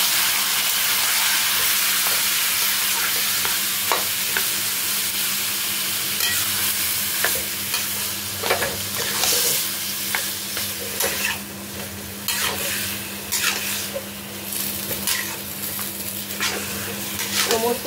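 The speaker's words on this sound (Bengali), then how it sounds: "সমস্ত সবজিগুলো কচু শাকের সাথে মিশিয়ে ঘন্ট বানাতে হবে" Boiled vegetables being stirred into taro greens in a pan to make a ghonto with green chillies, giving a steady close sizzle and frying hiss with scattered scraping clicks of the spoon throughout.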